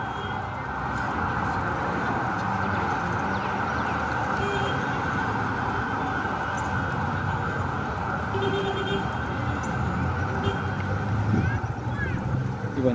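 An ambulance siren wails steadily at a distance beneath city street traffic noise in Lima and a nearby voice, holding on throughout.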